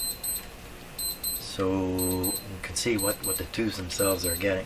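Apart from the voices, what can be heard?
alarm clock ringing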